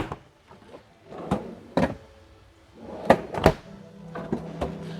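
Freezer drawers on a refrigerator-freezer with two freezer compartments in an appliance store are pulled open and pushed shut, a series of plastic sliding thuds and clunks at irregular intervals, close, with a low hum underneath.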